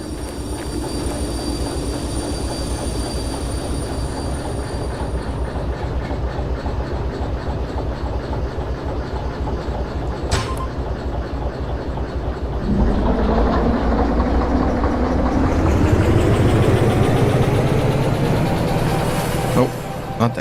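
A long freight train rolls steadily along the track in the Derail Valley simulator, a continuous low rumble with clickety-clack texture that grows louder and rougher partway through, with a brief sharp click near the middle.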